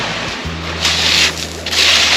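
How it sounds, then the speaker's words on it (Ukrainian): Sea waves wash onto a Sicilian shore at Novara di Sicilia, loud surges of surf rolling in and retreating in two or three swells, with some wind noise on the microphone and a low hum underneath. "І мене сьогодні буде убаюкувати хвиля морська."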